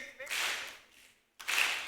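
An audience at the BTC 2024 opening ceremony claps in unison, two broad crowd claps separated by a short pause.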